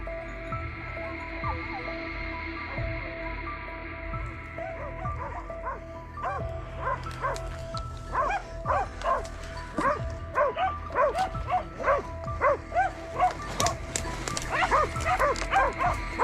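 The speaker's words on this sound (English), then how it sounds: "the sharp baying of hunting dogs immediately caught his attention" Hunting dogs baying during a wild boar hunt, a pack yelping and barking in rapid, overlapping bursts that build from scattered calls to a dense, excited chorus, fairly near, over a low hum.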